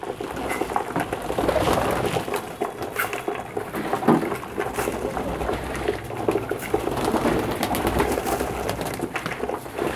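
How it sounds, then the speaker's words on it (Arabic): Hungry domestic pigeons feeding in a loft, a steady chorus of close cooing and soft bubbling calls running throughout, with scattered pecking and wing rustles and no talk. "اهو الحمام بسم الله ما شاء الله، الحمام جعان."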